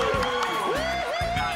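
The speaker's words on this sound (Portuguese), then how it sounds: "aplaude também!" A studio audience cheers and whoops as a comedy show host is introduced, with loud crowd noise, rising shouts and scattered applause close around.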